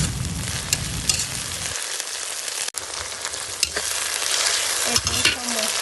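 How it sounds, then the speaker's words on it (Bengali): Onions with ginger garlic paste frying in a hot pan while being stirred steadily, a loud, close, continuous sizzle with scraping strokes of the spoon. "আর আমি ততক্ষণ লাড়বো যতক্ষণ পেঁয়াজটা নরম হয়"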